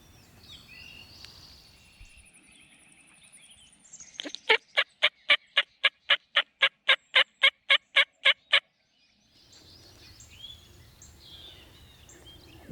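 A rapid series of about fifteen rhythmic pulsing gobbles from a distant wild turkey across a creek bursts out loudly amid faint birdsong, then fades back to quiet chirps.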